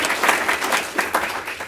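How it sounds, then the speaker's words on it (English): Audience applause at a Villa Rica live-streamed gathering: a dense, steady wash of many hands clapping at moderate volume, swelling slightly in waves through its short length with no voices on top. "Y'all give him a round of applause."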